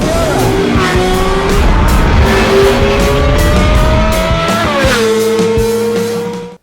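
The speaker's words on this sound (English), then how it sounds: "Driving a Lamborghini Miura!" A Lamborghini Miura being driven hard, its engine loud and close with rising revs through the gears, a brief drop at a shift, and faint tyre noise underneath.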